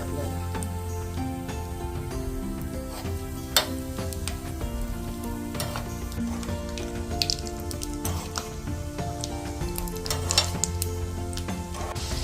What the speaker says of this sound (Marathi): हे शेंगदाणे मी तेलामध्ये तळून घ्यायचे मंद आजीवर तळून घ्यायचे